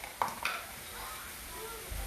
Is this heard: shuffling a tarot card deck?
no